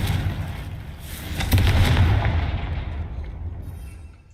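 A Confringo blasting spell in Hogwarts Legacy sets off a booming explosion that swells after a softer lead-in and then rumbles away into a long fading tail, with no voices over it.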